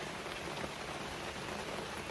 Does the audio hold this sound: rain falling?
yes